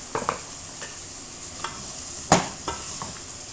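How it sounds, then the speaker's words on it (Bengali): Potatoes and eggplant sautéed with spices in a pan, a soft steady sizzle under occasional scraping stirs of a spoon, one louder clack near the middle, no voices. "আলু বেগুন ভালো করে কষিয়ে নিব মশলার সাথে।"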